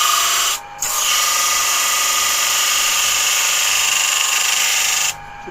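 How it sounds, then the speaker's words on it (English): A disc sander grinds steadily against a piece of wood being trimmed, a loud continuous abrasive whine with a brief dip near the start before it runs on and then cuts off near the end. "I'm just going to trim it back on the disc sander"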